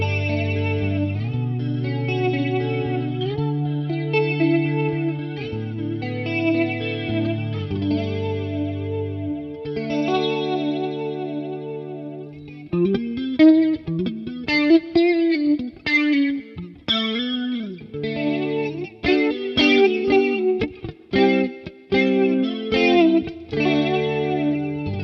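Electric guitar played through a BOSS BE-5B bass multi-effects pedal, sustained chorused chords giving way to choppy, distorted riffs with short stops, loud and alone in mono.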